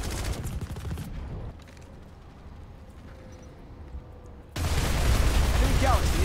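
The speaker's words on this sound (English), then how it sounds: "Get in the turrets and fire at enemy flies." Rapid turret gunfire aimed at enemy aircraft in a sci-fi shooter video game, loud bursts at the start and again near the end with a quieter stretch between, heard alongside radio-style chatter.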